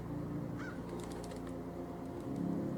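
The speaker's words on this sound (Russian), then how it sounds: "Очень редкие, почти незаметные звуки птиц, но все же их слышно." A few faint, sparse bird chirps sound within a video game's ambient soundscape, brief and distant over a steady low background hum.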